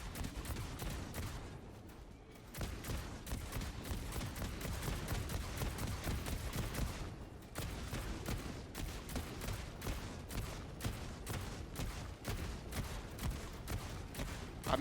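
Rapid gunfire rattles in Helldivers 2, long dense bursts of shots broken by brief pauses, loud and sustained throughout.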